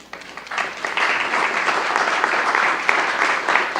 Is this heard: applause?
yes